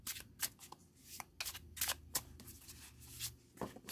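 Tarot cards shuffled by hand in a quiet room, a series of crisp riffling bursts separated by short pauses, close and fairly soft, with no talking.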